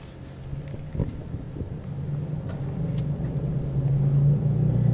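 A car engine rumble used as a sound effect in a school stage play of The 39 Steps: a low, steady rumbling drone that grows gradually louder, with a few faint knocks and stage noises.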